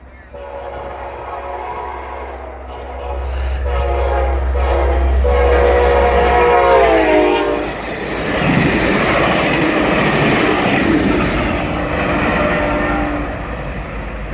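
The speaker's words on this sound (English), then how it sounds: "That was Amtrak 76 heading northbound past Intermediate Signals Duke Power" Amtrak train 76, led by Amtrak Leader 1984, passes northbound on the Norfolk Southern main line at Harrisburg, North Carolina, with a loud rising, sustained horn blast over steady engine rumble, then rolling wheel noise as the cars go by close.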